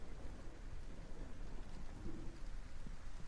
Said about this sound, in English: we're going to get away from this thunderstorm